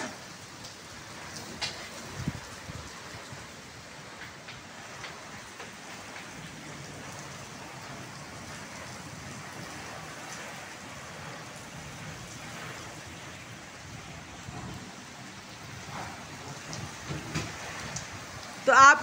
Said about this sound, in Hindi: धुएंधार बारिश है, देखें तो सही, धुआं जैसे नहीं उठ रहा होता, बिल्कुल ऐसे ही आ रही है बारिश।